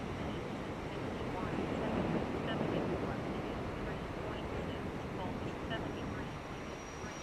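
Strong wind gusting at a beach, a constant loud rushing roar buffeting the microphone with surf-like texture throughout, no clear voices.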